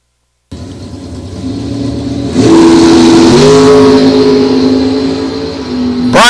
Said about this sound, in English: Scotty's making a charge in the Dragster. That Camaro is going to prevail